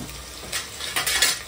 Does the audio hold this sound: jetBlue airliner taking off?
no